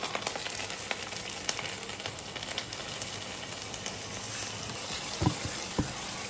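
Potatoes fry and get stirred in a pan, a steady broadband sizzle with occasional scraping clicks and a couple of louder knocks near the end, no voices.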